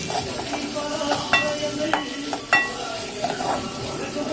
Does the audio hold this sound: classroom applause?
no